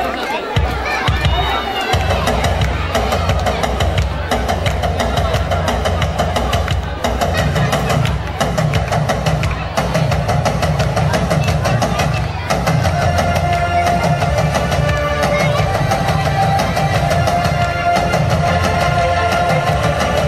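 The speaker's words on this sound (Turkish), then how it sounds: "kocaman bir alkış istiyoruz" An audience at a school reading celebration claps and cheers loudly and continuously, with a dense wash of applause and crowd noise filling the hall from start to finish.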